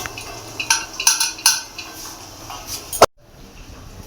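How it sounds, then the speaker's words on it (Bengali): Chickpea dal stirred into sautéed vegetables in a pan for a papaya dish, with several sharp metal spoon clinks and scrapes over a soft background, ending abruptly in near silence. "সবজির সাথে ডালটা ভালোভাবে নেড়ে চেড়ে মিশিয়ে নেব"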